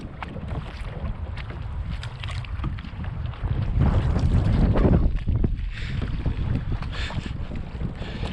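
A kayak paddled across a windy lake, with steady broadband wind rush and water sloshing throughout, swelling louder for a second mid-clip before easing back.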